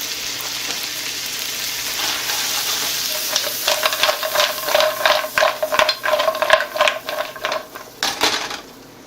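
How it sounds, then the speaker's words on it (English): Shrimp hitting a hot pan for a keto gumbo stir fry: a steady sizzle first, then a burst of loud crackling and spattering with rapid scraping as they fry close by, without voices. "So let's go ahead and throw our shrimp in"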